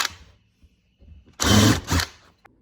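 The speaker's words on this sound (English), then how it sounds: "Switching over to the countersink bit. Just countersinking the holes so it's nice and neat for the screws." A power drill fitted with a countersink bit countersinks screw holes in wood for a bourbon barrel display cabinet, a loud close whirring burst of about half a second, a brief pause, then a second burst.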